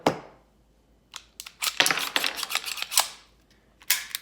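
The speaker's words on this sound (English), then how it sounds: "Then I will actually drop the mag on this one." Metallic clicks and clacks from handling a CZ pistol as its magazine is dropped out, a sharp snap at the start followed by a dense cluster of close, irregular mechanical rattles and taps, then a final pair of clicks, with no talking.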